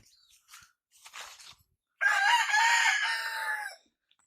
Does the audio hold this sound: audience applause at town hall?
no